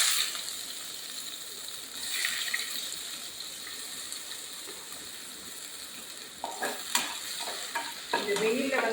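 An onion frying in a tablespoon of coconut oil in a basic cooking pot, with a steady close sizzle under repeated stirring scrapes and clinks that grow busier toward the end.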